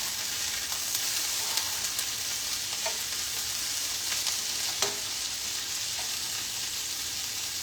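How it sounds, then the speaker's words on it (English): Steady, dense sizzling of potatoes frying in a pan, with a few faint pops and stirring scrapes; no voices. "or our potatoes that are all frying up."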